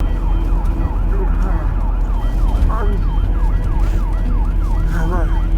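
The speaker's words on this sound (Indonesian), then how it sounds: "suara sirine ambulan terdengar membawa Lias yang sedang dalam kondisi kritis" An ambulance siren wails loudly and continuously, its rapid rising-and-falling yelp repeating close by over a low vehicle rumble.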